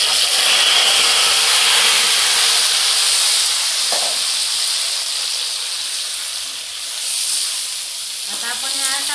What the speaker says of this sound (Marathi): तर आता हे आपलं तेल जरा गरम झालं ना, थोडंसं बाजूला टोमॅटो ह्यातमध्ये टाकते